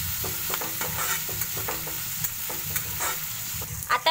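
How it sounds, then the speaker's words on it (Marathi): Finely chopped onion fries in a pan while being stirred, a continuous close sizzle broken by regular scraping strokes of a spoon, with a couple of sharper knocks near the end. "बारीक चिरलेला कांदा मी टाकून घेतलेला आहे. त्याच्यानंतर आपण चांगले ह्याला हलवून घेऊया."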